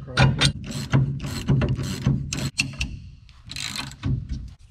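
Ratchet tightening the spindle bolt during a disc brake conversion on a 1972 Dodge Dart Swinger, a close series of loud rapid clicking bursts in uneven strokes with short pauses between.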